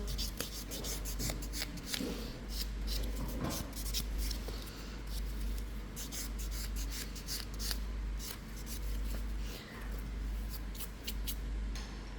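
Natural fingernails being buffed during a gel ombre manicure, soft repeated scratchy rubbing strokes close up and fairly quiet, with a low steady hum underneath.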